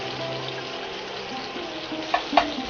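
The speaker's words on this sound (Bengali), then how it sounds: "হালকা করে আমি পেঁয়াজটা গোল্ডেন ব্রাউন করে একটু ভেজে নেব" Onions sizzle gently in a pan of oil, browning to golden, a soft steady crackle up close, with a couple of light utensil clinks near the end.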